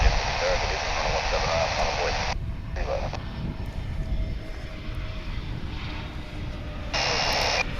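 A Frontier Airlines airliner at Dallas/Fort Worth International Airport gives off a loud, steady broadband engine roar that dips briefly midway, then surges back strongly near the end.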